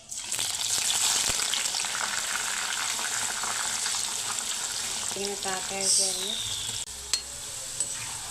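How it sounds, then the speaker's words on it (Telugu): Bitter gourd pieces fry in a generous amount of hot oil, making a loud, continuous close-up sizzle with occasional stirring clatter and a brief faint voice near the end. "ఇదిగోండి ఆయిల్ హీట్ అయిపోయింది. ఇందులోని కాకరకాయ ముక్కలు ఫ్రై చేసుకుందాం."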